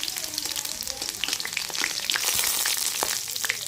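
An olive pickle mixture with crushed garlic bubbles and sizzles in a pan at home, with a dense, steady crackle close by and no voices.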